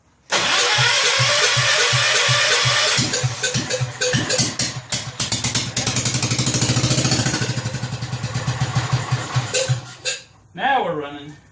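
Rebuilt Kohler K241 single-cylinder engine on a John Deere 210 lawn tractor cranking, then catching and running roughly with uneven pulsing firing, loud and close, stumbling from a fuel delivery problem before dying, with someone talking at the end.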